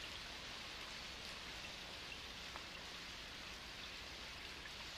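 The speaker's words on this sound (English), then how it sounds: "Oh, it's pouring rain." Steady, dense hiss of rain falling continuously, broad and even throughout with no pauses and no voices.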